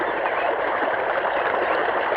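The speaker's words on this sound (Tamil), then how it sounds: "தோட்டத்துல யாருமே இல்லைங்கிற வாய்க்கால இவ்வளவு தண்ணி போகுது" Water rushes steadily along an irrigation channel in a garden fed by a pump set, a continuous close broadband flow with soft gurgling and no breaks or talk.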